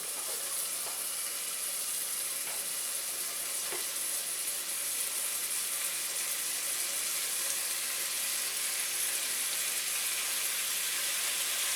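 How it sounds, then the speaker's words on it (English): Prosciutto-wrapped shrimp sizzle steadily in a hot pan, a loud, continuous frying hiss with no talk. "Hear that sizzle?"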